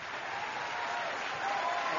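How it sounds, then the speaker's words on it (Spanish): Long, steady ovation from fellow actors and guests greeting Michael Douglas at the Golden Globes, a dense unbroken wash of applause holding even and full throughout. "Fue recibido por una larga ovación por sus compañeros."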